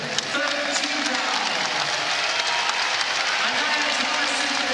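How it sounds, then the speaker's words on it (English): A steady wash of crowd applause fills the arena at an NCAA women's basketball second-round game between Kansas and Stanford as Stanford's Haley Jones heads to the bench, continuous and moderately loud with a commentator talking over it. "Haley Jones gets a nice applause as she heads to the bench"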